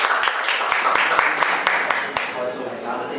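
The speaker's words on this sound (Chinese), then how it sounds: "掌声欢迎宇翔" A small audience at a self-introduction meetup claps to welcome a speaker back, a short burst of scattered, close handclaps that thins out toward the end.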